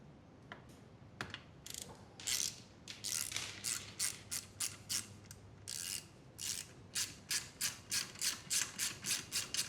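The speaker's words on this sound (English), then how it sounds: "now we're gonna be going around the whole thing and just kind of tightening everything up" A hand ratchet tightens bolts on an off-road go-kart build, its pawl clicking in quick, even strokes, close and alone.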